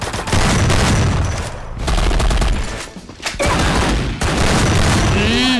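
Rapid gunfire in a shooting video game, dense bursts of shots filling most of the stretch with brief gaps, loud and close, with a player's voice talking over parts of it.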